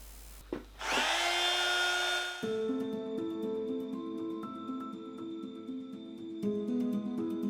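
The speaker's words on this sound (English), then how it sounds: "So I'm going to use these to grind a radius on the spokes. I'm using my Proxon mini drill." A Proxxon mini rotary drill grinds a radius onto metal wheel spokes for a model steam locomotive, a high steady whine that spins up, then drops to a lower loaded grinding tone with shifting pitch as the bit bites.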